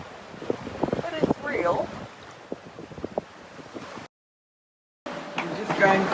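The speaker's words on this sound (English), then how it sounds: "squall, wind speed 35 knots. Bumping around a bit." Strong squall wind of about 35 knots buffets a sailboat at sea, gusting noise mixed with wave wash, under intermittent speech, with a brief dropout partway through.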